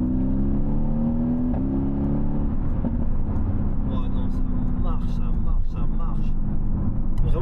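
A Mercedes-AMG GT with a rear-wheel-drive V8 drives along, its engine droning steadily up close as it pulls through the gears, while someone talks over it.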